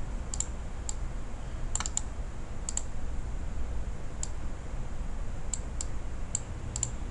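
A password is typed on a computer keyboard as a scattering of quiet, crisp key clicks, some in quick pairs, spread irregularly over several seconds against a faint background hiss.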